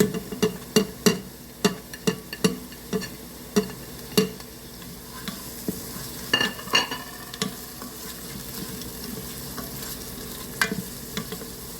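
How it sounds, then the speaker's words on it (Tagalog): Beef strips sautéing with tomato and bay leaf in a pot, a spoon stirring and scraping in a steady run of sharp knocks over a soft sizzle, with the strikes thinning out later. "Atin pong igisa ang ating beef."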